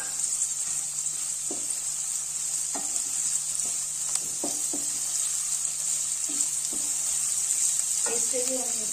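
Cashews and raisins fry in an oily pan with a steady close sizzle, broken by scattered clinks and scrapes of a spoon stirring, and no talk.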